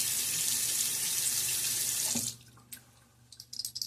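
Running tap water rinses a safety razor in a sink: a steady, close splashing gush for about two seconds, then the flow stops, leaving a few light clinks and drips.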